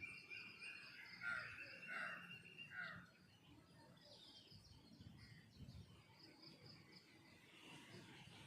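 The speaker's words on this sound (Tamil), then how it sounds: "குருவி சத்தம், அணில் சத்தம் எல்லாம் எப்படி கேட்குது பாருங்கள்" Morning outdoor ambience with sparrows chirping in bright, repeated bursts over the first few seconds, then quieter scattered calls that may include squirrels, set against a steady insect-like background hum.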